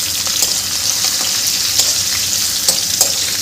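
Green chillies and peanuts fry in hot oil in a pan for a fasting-style varai rice dish, a loud steady sizzle broken by a few scraping stirs of a spoon.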